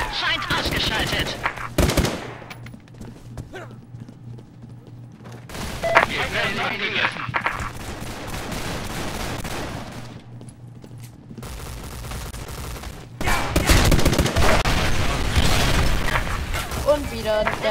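Bursts of rapid gunfire in the video game Sniper Ghost Warrior 2, loud and dense, separated by quieter stretches with softer shots and a voice talking.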